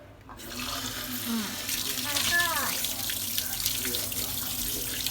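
Dishes being washed under a running kitchen tap, a steady close rush of water splashing in the sink, with a voice heard faintly over it.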